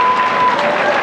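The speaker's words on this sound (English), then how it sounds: "Please hold your applause." Audience applause for a graduate at a 1990 Rawlins High School graduation ceremony, a dense, steady wash of clapping from a large crowd, with a faint voice audible underneath.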